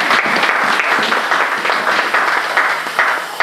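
Dense, loud applause from a church congregation at a sermon on the peace of Jesus fills the whole stretch, a steady wash of many hands clapping together with no break.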